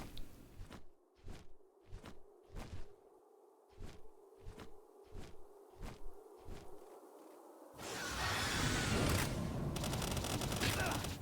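Video game gunfire fired through a wall cracks out as a string of sharp, evenly spaced shots, followed by a louder sustained burst of noisy rapid fire; no talk.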